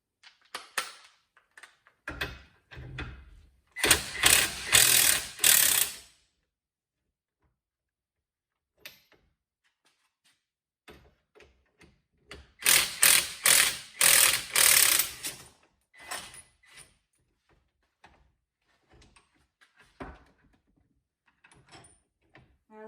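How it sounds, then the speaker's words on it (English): Strut spring compressors being loosened on a car's suspension strut, heard as bursts of close, loud mechanical ratcheting or rattling separated by quieter clicks and handling noises, with no talk. "Now I can loosen the compressors."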